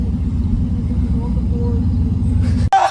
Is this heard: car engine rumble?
yes